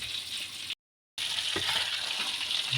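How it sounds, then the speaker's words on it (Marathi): Fish fritters frying in hot oil, a steady close hiss and crackle that fills the clip, broken by a brief silent gap and ending with a few light clicks. "अजून फ्राय फिश तळायचे चालू आहे"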